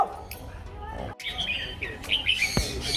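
Birds chirp and squawk at Gallop D'Kranji Farm Resort in Singapore, with bright short calls scattered over a steady murmur of background noise and voices.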